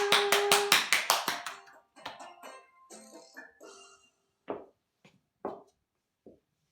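Children in a Sunday school church service clap in a quick, even burst of about eight sharp claps, then a few scattered, fading claps and taps, with no talk.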